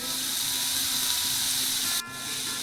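Spice tempering (vaghar) with asafoetida, ginger-garlic paste and chopped coriander sizzles in hot oil, a loud, steady hiss that drops off sharply near the end.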